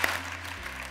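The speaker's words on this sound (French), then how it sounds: "Applaudissements, monsieur Jouzel." Audience applause welcoming a climate scientist onto a lecture stage, a brief burst of steady clapping without voices.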